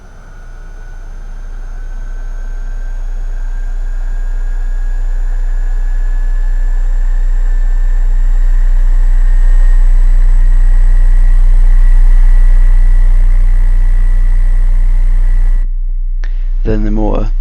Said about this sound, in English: turn on fuel first, and this is the fuel introduction sound.